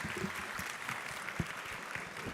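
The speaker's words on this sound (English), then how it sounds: "A round of applause for Congresswoman Judy Chu." Scattered clapping from guests at an awards gala, fairly faint and even, with a few sharper individual claps standing out over a soft crowd murmur for a couple of seconds.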